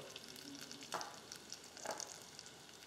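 Ginger, onion, cauliflower and other vegetables for mixed veg and dry fruit pulao sizzling faintly in a pan, a steady low hiss broken by two brief spatula scrapes, quiet and without talk.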